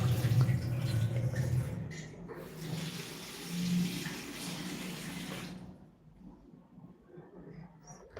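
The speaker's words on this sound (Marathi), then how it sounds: "शेवगा आपल्याला स्वच्छ धुवून घ्यायचं आहे" Running water splashes from a tap as drumstick pods are rinsed under it, loud at first, then easing off and fading to near quiet toward the end.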